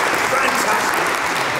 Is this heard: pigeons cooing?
no